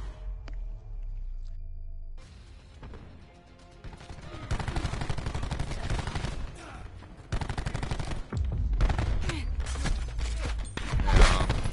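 Rapid team gunfire in a shooter video game, with loud overlapping bursts of shots and fusillades that come and go over about twelve seconds, after a quieter start.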